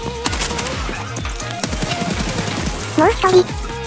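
SA-58 rifle gunfire in the video game Escape from Tarkov: rapid, loud automatic bursts at close range, shots closely spaced in a steady rhythm over most of the stretch, with brief background game sounds.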